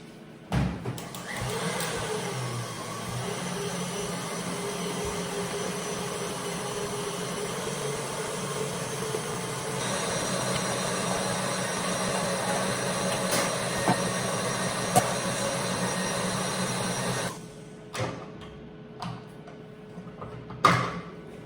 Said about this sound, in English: mixing up the meringue to stiff peak